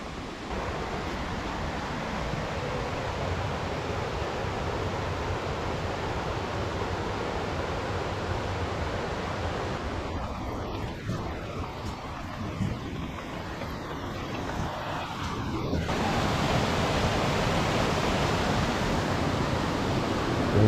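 Gizlikent waterfall pours in a strong, rushing flow, a dense and steady roar of water heard near and loud throughout, with wind buffeting the microphone in places.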